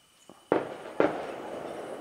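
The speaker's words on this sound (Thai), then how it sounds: "มีการจุดประทัดแล้วก็จุดพลุ" Firecrackers and fireworks going off at a Chinese New Year celebration in a hill-tribe village at night, with two sharp, fairly close bangs about half a second apart, each trailing off into crackling echo, then a faint distant rumble.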